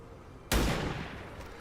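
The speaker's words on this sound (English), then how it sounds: "Shoot that guy, please." A single loud gunshot from XCOM 2 cracks out abruptly after a short quiet stretch, followed by a long rumbling decay that slowly fades.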